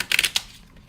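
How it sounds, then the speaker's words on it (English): Playing cards of a Victorian Romantic deck being overhand shuffled: a quick burst of four or five crisp, close riffling slaps, then near silence. "Overhand shuffling."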